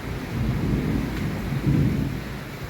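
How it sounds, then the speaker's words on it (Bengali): Steady, heavy rain roars close by with deep thunder rumbling underneath, continuous and dense throughout, with no voices. "প্রচুর জোরে বৃষ্টি পড়ছে বাইরে"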